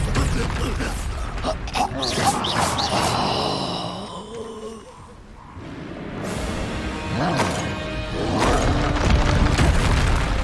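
In the video game Hogwarts Legacy, the Confringo spell sets off a deep explosive boom amid other spell blasts and whooshing effects. The sound is loud and continuous, with short voiced grunts mixed in.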